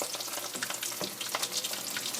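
Hot corn oil crackles and sizzles steadily as beer-battered shrimp fry over medium-high heat, a dense close-up spattering with sharp pops scattered throughout.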